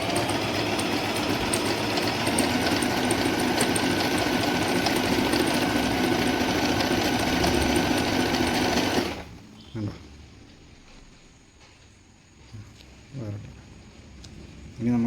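A Singer Simple 3223 sewing machine stitches in a steady fast whirring hum for about nine seconds, then stops, leaving a quiet room with a few brief mechanical clicks and bumps.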